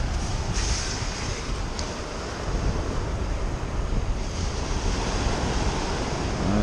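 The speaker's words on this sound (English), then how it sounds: "the wind is freezing" Steady wind roars across an open beach with surf, a constant, fairly faint wash of broadband noise and no speech.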